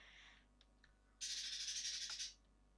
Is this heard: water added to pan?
no